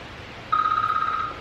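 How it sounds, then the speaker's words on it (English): A single telephone ring tone for an incoming call starts abruptly and sounds as a sustained electronic trill, clear and fairly close over quiet room noise. "Now we have a phone call, so we're going to pause for a second."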